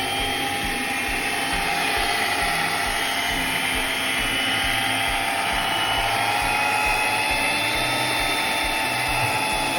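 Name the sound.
electric mixer blending black cake batter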